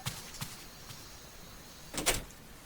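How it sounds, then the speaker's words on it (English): An apartment door opens in 999: Nine Hours, Nine Persons, Nine Doors, a faint click at the start and a brief louder sliding sweep near the end, with no voices. "Junpei shuffled up the stairs and opened the door to apartment 201."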